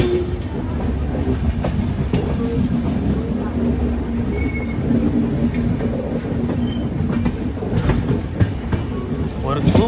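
The Vaigai Express train, running from Madurai to Chennai, rolls over a river with steady wheel rumble, rhythmic clickety-clack and occasional squeals, heard loud and close from on board.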